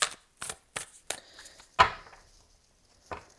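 Stiff oracle cards sound as a series of short, dry slaps and crisp riffling bursts while a tarot reader struggles to riffle shuffle the deck, with quiet gaps between each attempt.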